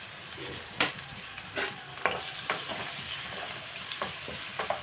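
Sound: onion and green chilli pieces frying in a pan

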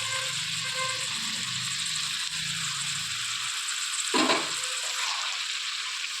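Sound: ginger, garlic, onion and green chilli paste frying in pan

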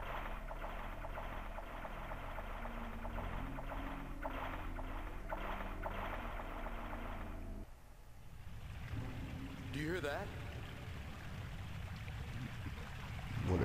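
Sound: water rushing like a flushing toilet, from video game OverBlood

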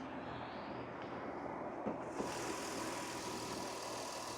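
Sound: car engine idling

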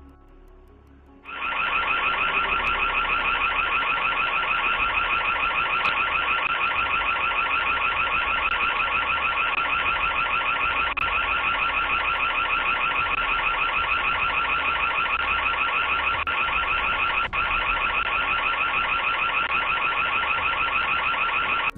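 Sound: doorbell camera siren alarm going off

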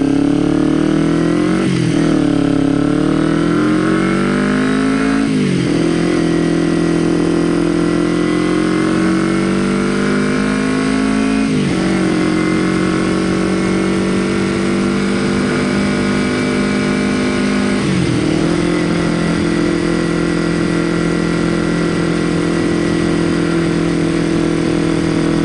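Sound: car engine revving and driving

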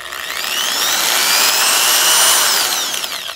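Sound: electric drill switched on and running

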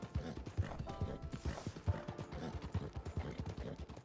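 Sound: horse galloping in video game

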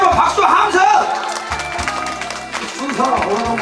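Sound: crowd applauding

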